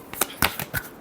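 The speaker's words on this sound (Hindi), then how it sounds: "Last shuffle." Tarot cards being shuffled, a few quick papery riffles and slaps close by, spaced in short bursts over about a second.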